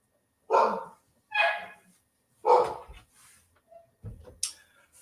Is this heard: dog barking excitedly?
yes